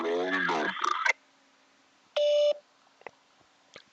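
Telephone dialing tones on a handset, a short burst of steady dual-pitch keypad tones after a voice, followed by a few faint clicks in near silence.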